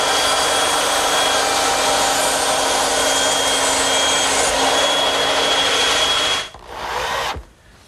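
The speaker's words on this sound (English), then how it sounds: "they're going to bump into one another unless I trim a little off at the bandsaw" A bandsaw trims a little off wooden tenons for an umbrella stand, giving a steady, loud whirring hum that runs without a break, then dips and stops near the end.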